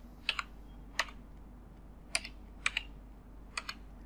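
Key presses on a computer keyboard while typing a CAPTCHA into an online bank application form, arriving in short clustered pairs of crisp clicks with pauses between them, close and clear over a low steady hum.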